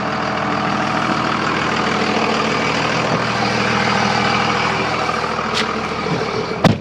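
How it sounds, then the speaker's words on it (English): A 2002 Dodge Cummins diesel pickup with a six-speed runs steadily with a deep, heavy rumble and turbo hiss, loud and close, ending in a brief sharp burst. "we're revving and running. You hear that turbo, Sammy?"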